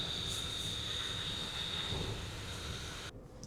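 Fans of an aftermarket ventilated car seat running inside a vehicle, a steady whooshing airflow hum that holds evenly for about three seconds before cutting back slightly near the end.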